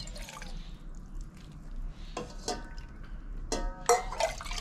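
Boiled water from Brazilian-variety soursop leaves is poured into a jar, giving close, intermittent splashes and drips with short trickling bursts and no talking.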